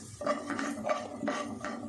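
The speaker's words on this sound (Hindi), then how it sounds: "इनको हल्का सा फ्राई कर लेते हैं" Dry spices lightly fried in a pan, with soft scraping stirs and quiet clinks of a spoon against the pan, several gentle strokes close up.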